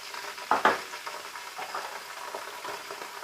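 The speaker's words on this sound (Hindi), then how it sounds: "अब मैं इसमें गार्लिक जिंजर पेस्ट जो है वो डाल दूँगा" Garlic ginger paste frying with browned onions for aloo gobi, a soft steady sizzle with a couple of sharper clinks or stirring scrapes near the start, fairly quiet and close.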